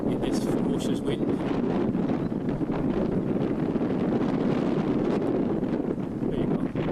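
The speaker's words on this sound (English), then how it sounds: "if my hand will remain steady enough in this ferocious wind" Strong, ferocious wind buffets the microphone outdoors beside an old national school, a constant loud roar and rumble lasting the whole stretch with no break, while someone speaks beneath it.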